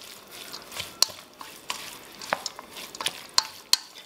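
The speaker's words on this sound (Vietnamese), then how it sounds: "anh chị trộn đều lên một lần nữa." Shredded kohlrabi, carrot and chicken salad with herbs is mixed by hand or utensil, producing soft wet rustling and a few sharp clicks against the bowl, fairly quiet and close.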